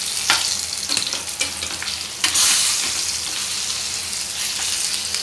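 Bangda fish (mackerel) pan-frying on a low flame, a continuous close sizzle broken by several sharp scrapes and stirs, one louder burst near the middle.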